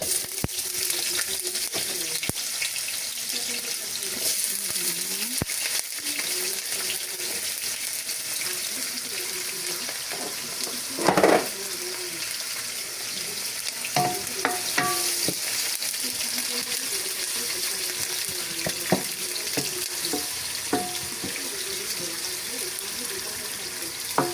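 Onions frying in a pan for a Guianese beef kondré, a steady close sizzle with intermittent stirring scrapes and a brief louder clatter midway, no talk.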